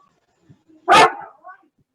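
A single loud dog bark rings out in a quiet indoor room, a short burst standing alone with faint sounds before and after it.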